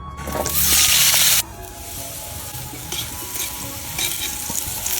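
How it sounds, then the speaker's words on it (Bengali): Potatoes hit hot oil with a loud burst of sizzling, then settle into softer frying crackle and occasional scraping as they are stirred in the pan, up close. "এবার আলু ভাজে নেব।"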